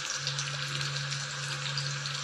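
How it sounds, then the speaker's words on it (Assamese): Onions frying in oil with cumin in a home kitchen, a soft, steady sizzle and crackle with a low hum underneath, close and unbroken. "পিঁয়াজ ভাজি লৈছোঁ অকণমান ব্ৰাউন হোৱালৈকে"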